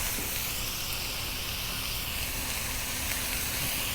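Diced beef sizzling in about ten spoons of hot corn oil with onions in a single pan, a steady, even hiss throughout at moderate level.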